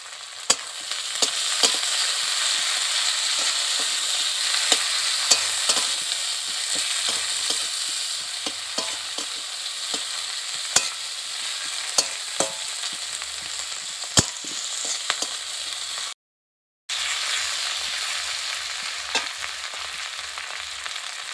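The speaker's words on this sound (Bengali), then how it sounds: "এবার এর মধ্যে আমি টমেটো কুচি আর কাঁচা লঙ্কা কুচিগুলোকে দিয়ে আর একটু ভালো করে ভেজে নেব" Chopped tomato and green chili fry with lightly browned onion in a pan, a steady close sizzle with scattered crackles and spatula scrapes throughout, broken by one brief gap of silence near the end.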